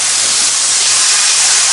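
Water sizzles on a hot cast iron griddle as it is brushed, a loud, constant hiss close up.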